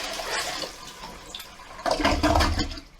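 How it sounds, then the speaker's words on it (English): A toilet forced to flush by dumping a bucket of water into the bowl, with a gushing, swirling rush of water that surges loudly in the second half after quieter running water. "you had to dump a bucket of water in the toilet to force it to flush"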